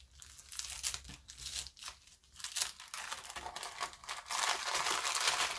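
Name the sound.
opening a paper package of stickers, crinkling and tearing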